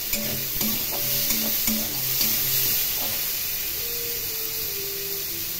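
Lentils and onions fry with a little salt in a pan, a steady close sizzle broken by repeated scraping stir strokes throughout.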